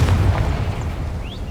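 A Confringo fire spell explodes in Hogwarts Legacy, a single loud low boom with a rumbling tail that fades over a second and a half.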